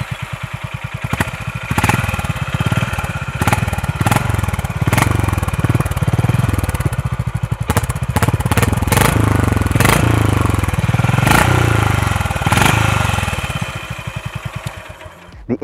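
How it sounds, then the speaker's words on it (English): A motorcycle exhaust thumps steadily at idle and low revs, a deep rhythmic pulsing close by, with occasional sharper blips throughout. "The Honda CB350 has a lovely, lovely thump coming from the exhaust."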